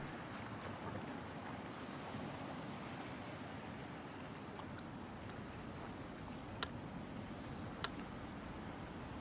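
Ship running at full speed ahead in the European Ship Simulator game, with a steady wash of water and wind noise rushing continuously and two brief sharp ticks near the end.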